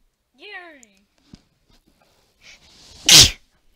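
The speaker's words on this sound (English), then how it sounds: "He sneezed." A cartoon character in a Nick Jr. Halloween farm festival video game sneezes once, a sharp loud burst right after a sing-song voiced line and a small click, with a faint rustle just before it.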